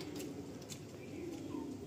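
Pigeons cooing softly in a loft housing roughly thirty baby pigeons, low steady murmuring coos with a few faint higher chirps, close and continuous throughout.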